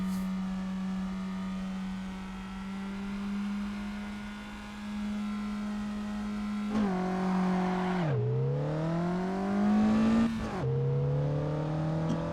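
A Suzuki Liana in the Assetto Corsa sim racing game on the Top Gear test track holds a steady engine drone, then revs up and shifts through gears with abrupt pitch drops and climbs, fairly close.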